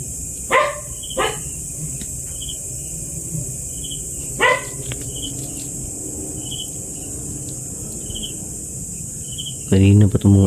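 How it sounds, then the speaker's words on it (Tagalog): Dogs bark outside at night in scattered short bursts, one or two barks at a time from a moderate distance, over a constant chorus of crickets and insects, ending with a louder close sound. "Kanina pa itong mga aso, sobrang ingay."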